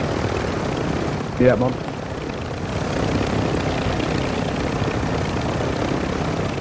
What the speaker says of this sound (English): Right, we need to repair this chopper.